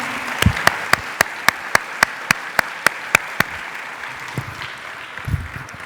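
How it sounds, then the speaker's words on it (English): An audience at an Arangetram dance recital applauds over a steady wash of noise, with a dozen sharp, evenly timed claps standing out near the front before fading into the crowd. "Please join me in giving another round of applause to the wonderful team"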